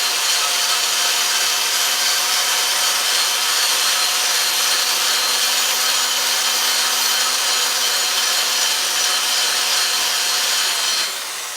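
A power tool grinds and smooths the rough-cast intake runners of an LS cylinder head, making a continuous bright, high-pitched whine and rasp that holds steady, then cuts off at the end.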